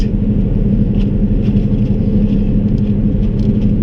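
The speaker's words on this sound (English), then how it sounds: "then you're going to see me accelerate, and I build up speed" A car accelerating on a snowy road gives a loud, steady low rumble of engine and tyre noise from inside the cabin, building with no talking.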